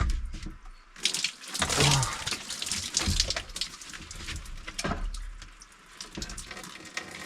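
Cold water pours from a tap as a person splashes and washes themselves, a loud, uneven rushing with bursts of splashing and brief quieter gaps.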